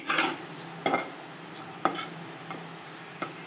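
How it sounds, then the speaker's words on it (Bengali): Cashews frying in a pan for egg biryani, heard as a soft steady sizzle with a few sharp scraping stirs at intervals, close and alone. "আমি এখন কাজুগুলো ভেজে নিচ্ছি।"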